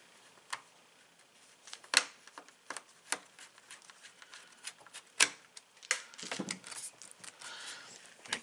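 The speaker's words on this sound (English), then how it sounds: "Want to hear all the clicking. So everything locks down." Sharp plastic clicks and snaps as a replacement cooling fan is pressed into place inside a pre-2018 Alienware laptop, irregular close-up clicks with brief pauses between them.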